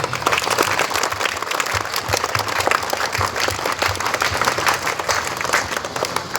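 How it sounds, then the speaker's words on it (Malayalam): An audience in a school hall applauds a speech, dense sustained clapping from many hands, fairly close and steady for several seconds with a faint murmur beneath. "ഒരു ക്ലാപ്പ് തന്ന്, നിങ്ങളുടെ ക്ലാപ്പ് തന്ന് എനിക്ക്"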